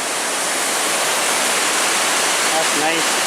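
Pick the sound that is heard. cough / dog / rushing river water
rushing river water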